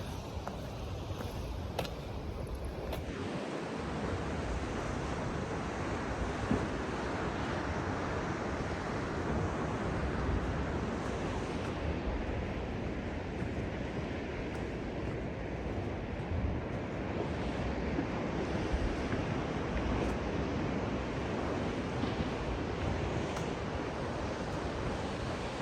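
Ocean waves churn and surge at a rocky spouting spot on the Oregon coast, a continuous loud wash of surf mixed with wind buffeting the microphone, with no voices.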